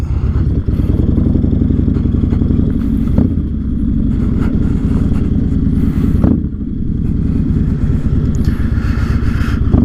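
Yamaha Raider motorcycle turning around on gravel, its engine idling with a loud, steady lumpy throb close by while tyres crunch and scrape over the stones, with small throttle blips.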